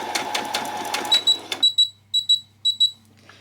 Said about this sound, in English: my machine telling me do not put a back stitch in